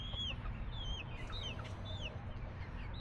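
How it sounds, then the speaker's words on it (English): A chicken in the farming game Broomsticks and Bloodlines gives a string of short, rising clucks and chirps, close and fairly clear over a low ambient hum. "hi little chicken."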